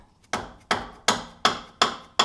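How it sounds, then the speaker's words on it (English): A dead blow hammer strikes a wrench to break the front strut bolts free on a 2005 Toyota 4Runner, giving six sharp, evenly spaced metallic knocks. Each knock is close and loud and rings off briefly, with no talking. "take our dead blow hammer. We're going to put our wrench on there and go ahead and give it a couple pops"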